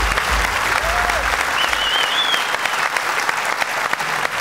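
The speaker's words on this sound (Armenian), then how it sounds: "Մեզ բարձր ծափարեք" A comedy club audience claps loudly and steadily as performers take the stage, with a couple of brief whistles rising above the dense applause.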